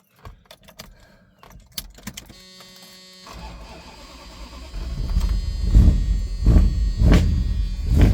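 An old truck cranks over on starting fluid after some faint clicks and key jangles, then catches and rumbles in a rough, rising, uneven run, fairly close and getting louder.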